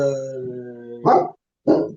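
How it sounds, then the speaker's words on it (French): A pet dog lets out two short, loud barks close by, each about a quarter second long with a pause between them. A voice or steady tone is heard just before the barks. "ça c'est ma chienne"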